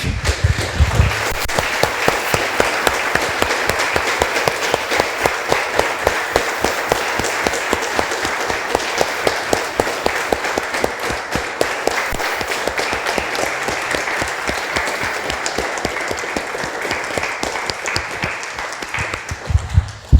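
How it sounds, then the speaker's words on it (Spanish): A church congregation applauds steadily for about twenty seconds, a dense, even wash of hand claps with no voices rising above it. "Damos un aplauso, hermanos"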